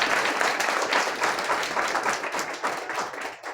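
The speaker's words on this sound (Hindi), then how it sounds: "ताली बजाते रहो" Steady applause from an audience at a Hindi school award ceremony and victory celebration, a dense, even patter of many hands clapping that carries on without a break, with no voices standing out.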